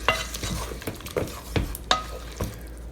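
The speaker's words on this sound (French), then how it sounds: "Je vais mélanger." Spiced lentils being stirred in a cooking pot, a series of scraping, sloshing strokes with irregular rhythm and light sizzling, close and moderately loud with no talk.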